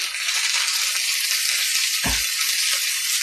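Minced garlic hitting hot oil in a cast iron wok and sizzling steadily and loudly at close range, with one brief low thump partway through and no voices.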